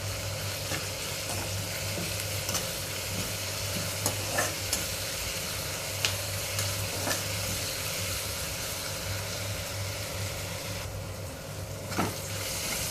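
Chopped onion sizzles and fries in a hot pan, a steady hiss with occasional stirring scrapes over a low background hum, no voices.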